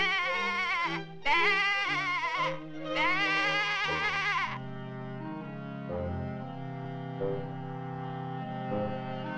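Sheep in a Looney Tunes cartoon bleat several times in quick, wavering bursts over orchestral music; the bleats stop and the music plays on alone.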